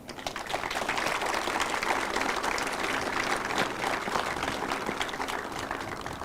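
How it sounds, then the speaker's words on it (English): Sustained audience applause at a ribbon-cutting ceremony for Hidalgo Hope Haven, a dense, even wash of many hands clapping that carries steadily throughout without pause. "If we can please give a round of applause and thanks of gratitude to each of those workers who are here with us today."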